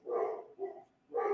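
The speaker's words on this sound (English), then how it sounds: "Those are my dogs going completely" Dogs barking at home, three sharp close barks in quick succession with short gaps, loud and alone without talk.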